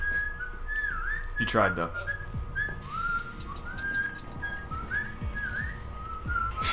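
Repeated short whistles from the whistle button in the video game Underhell sound in quick rising chirps over a low background rumble, and someone talks briefly partway through.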